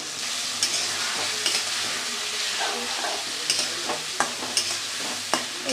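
Spice paste with a splash of water sizzles in a pan for rohu fish, a continuous loud fry broken by regular scraping strokes of a spatula as it is stirred.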